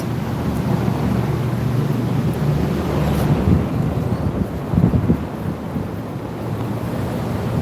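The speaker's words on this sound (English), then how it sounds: "I'm getting wind blown." Strong outdoor wind buffets the microphone in loud, continuous low rumbling gusts at a guinea pig rescue, filling the whole stretch with no talk over it.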